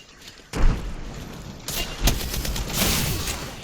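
Bursts of gunfire in the shooter game Apex Legends, a loud thump then several sharp shots and a sustained rattling volley, fairly close and dense.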